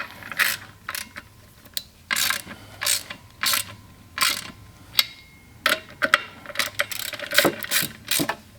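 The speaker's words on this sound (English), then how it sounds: "there's no need to use a large ratchet for this because we're just simply snugging these down prior to torquing" A small ratchet snugging down the pressure plate bolts on a Mantic twin disc clutch for a Dark Horse Mustang: repeated short bursts of crisp clicking pawl strokes, close and clear, with brief pauses between them.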